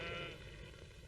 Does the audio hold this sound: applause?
no